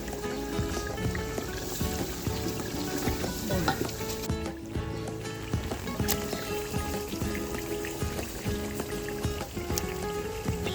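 Chicken and potato salan with broth sizzling and frying in a pot: a steady, dense hiss with stirring, close and continuous, with no talk.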